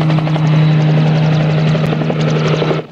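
Helicopter heard in a Supercar TV episode, its loud, steady rotor chop and engine drone dominating throughout before cutting off sharply at the end.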